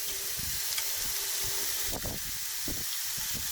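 Sugary marinated meat sizzles in a hot pan, a steady close hiss with sharper crackling bursts as the marinade crisps on the surface.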